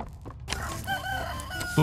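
A rooster crows in the horror game Poppy Playtime Chapter 3, a drawn-out tonal call rising over dense game background noise, heard up close with no talking.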